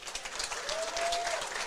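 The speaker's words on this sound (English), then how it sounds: "Nice round of applause from the crowd." Crowd applause at an international boxing tournament after a bout is stopped in the third round, a steady broad clatter of clapping for under two seconds at moderate distance, with a faint tone sliding briefly through it.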